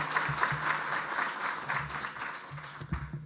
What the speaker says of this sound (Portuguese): eu queria pedir uma salva de palmas ao professor Fábio Barbieri